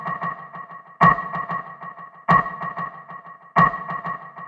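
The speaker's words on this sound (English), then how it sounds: "This is a MIDI snare from the Impact kit." A MIDI snare drum from the Impact kit strikes three times at an even, slow pace, each sharp hit followed by a ringing, echoing tail of delayed repeats, heard alone.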